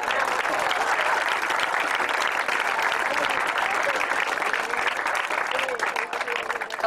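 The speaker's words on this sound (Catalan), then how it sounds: "Un aplaudiment per ells." A crowd at a Taca d'Oli event in Camp de Tarragona, Mas d'Enric, gives sustained, dense applause, loud and even from start to finish with no break.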